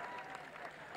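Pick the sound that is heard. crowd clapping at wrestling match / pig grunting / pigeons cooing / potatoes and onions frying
crowd clapping at wrestling match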